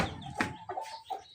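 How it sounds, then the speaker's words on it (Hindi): A chicken in a backyard poultry setup gives a few short clucks close by, with a brief knock among them. "मेरे सेटअप का अभी सबसे अच्छा मुर्गा ये है"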